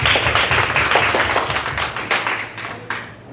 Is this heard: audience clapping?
yes